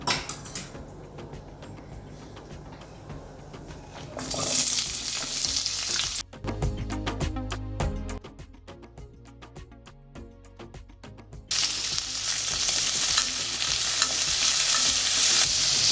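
Oil sizzles and crackles in a pan while palak paneer is being made, heard as loud steady frying in two stretches separated by a few seconds of music, with no talking.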